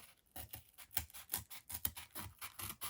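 Scissors cutting around cardboard discs, a close, quiet run of rhythmic snipping and rasping strokes that starts after a brief pause and continues steadily, with no voices.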